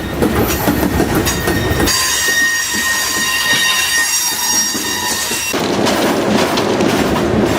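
A freight train with gravel cars rolls past close by with loud rumbling and clattering wheels. A high, sustained metallic wheel squeal rings out through the middle of the passage.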